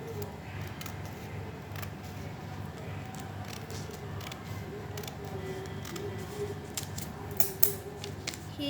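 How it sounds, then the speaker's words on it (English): Scissors snipping through a folded paper square while making an origami bird, with faint, close crisp cuts and small clicks over a quiet room hum, no talking. "Then you have to cut it. You can take a scale or a scissor."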